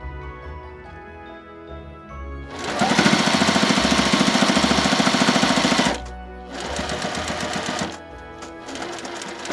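A sewing machine stitches a quilted Christmas stocking in two loud bursts of rapid, rhythmic needle clatter separated by a short pause, with softer background hum before the first run.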